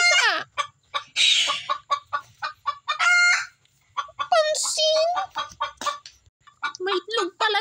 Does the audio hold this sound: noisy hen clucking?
yes